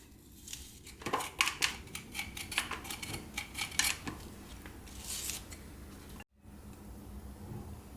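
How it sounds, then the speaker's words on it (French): Knife cutting through halved apples to scoop out the cores, a run of crisp, close scraping and cutting strokes, busier in the first half and settling into steadier slicing, with no voices. "Je coupe mes pommes en deux et je vide l'intérieur."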